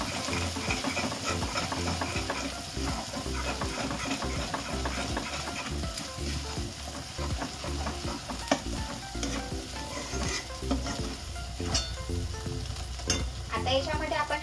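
Ghati masala is stirred and fried in a pan with continuous loud sizzling and constant spatula scraping, a dense, busy cooking sound that runs throughout.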